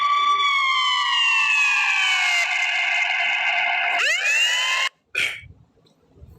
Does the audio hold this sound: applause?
no